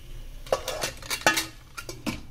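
Several metallic clanks and scrapes of a pressure cooker lid being handled and fitted onto the cooker, close by, with short pauses between the knocks.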